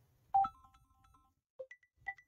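A WhatsApp notification on a phone sounds during a settings test: a bright chime near the start, then a few short, clean beeps about two seconds later, all in a quiet room with no talking.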